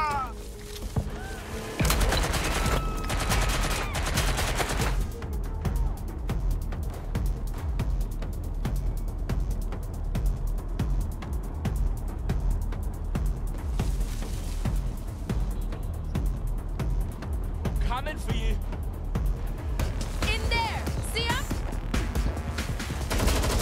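Gunfire in the video game Watch Dogs: Legion: a sustained barrage of rapid shots and automatic bursts fills the clip, loud and continuous, with some voices mixed in.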